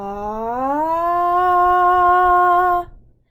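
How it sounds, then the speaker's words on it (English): A single voice sings a sustained vowel that slides smoothly from low to high pitch, holds steady, then stops abruptly. "you're going to start in the low range and glide high"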